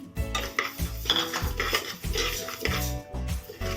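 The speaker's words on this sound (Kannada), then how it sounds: "ಈಗ ಬೇಳೆನ ಹುರ್ಕೊಳ್ಳೋಣ ಕುಕ್ಕರಲ್ಲೇ ಬೇಯಿಸ್ಬೇಕಾಗಿರೋದ್ರಿಂದ ನಾನು ಇದರಲ್ಲೇ ಹುಡ್ಕೋತಾ ಇದ್ದೀನಿ" Moong dal roasting in homemade ghee inside a pressure cooker, stirred with a metal spoon: rapid, close scraping and clanking strokes against the pot repeat steadily with a light sizzle underneath and no voice.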